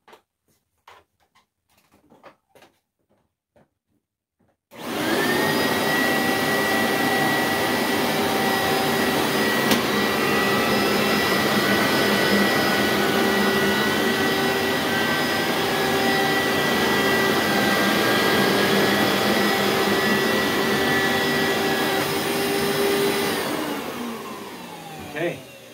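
A carpet extractor's vacuum motor with worn bearings starts up after a quiet stretch and runs loud and steady, with a sustained whine and tonal hum, then winds down near the end.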